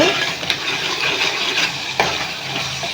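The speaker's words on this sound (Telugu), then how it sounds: "చిక్కటి గరం మసాలా పౌడర్ వేసుకొని మంచిగా కలుపుకుందాం" A spoon stirs garam masala powder into a simmering green chicken curry in a pan, giving soft scraping strokes and a few sharper knocks over a low, steady sizzle, with no talking.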